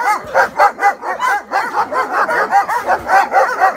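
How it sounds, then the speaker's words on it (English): Several dogs in pens bark rapidly and continuously in an overlapping chorus, loud and close, with yips mixed in throughout. "The other dogs are already barking."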